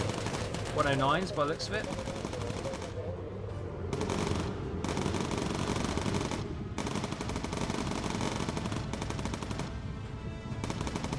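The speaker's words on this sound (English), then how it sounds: "See some flak in the mists." Anti-aircraft flak in the Bomber Crew video game, heavy sustained bursts of gunfire and rapid machine-gun rattle pounding almost nonstop, with a voice talking briefly over the barrage.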